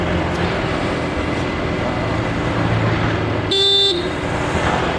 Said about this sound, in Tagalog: kaya maraming sasakyan dito